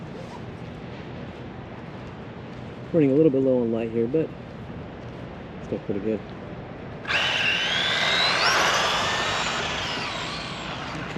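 A Traxxas Mini Slash RC truck's electric motor winds up to full throttle on a desert street, a rising high whine in the later part that fades as it pulls away, following someone talking.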